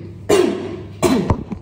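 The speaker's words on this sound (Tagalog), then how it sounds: "medyo may ubo-ubo pa ako" A person recovering from COVID coughs twice in quick succession, close and loud, each cough a short harsh burst.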